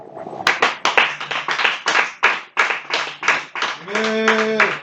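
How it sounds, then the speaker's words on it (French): A church congregation claps in a quick, uneven rhythm of sharp hand strikes, loud and close, with voices singing or calling out alongside toward the end. "On va acclamer Jésus"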